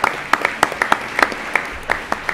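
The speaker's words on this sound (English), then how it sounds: "So everyone, round of applause." Audience at a special town meeting applauding, brief scattered claps from a modest crowd, fairly close and loud, with distinct individual hand claps standing out over a light background.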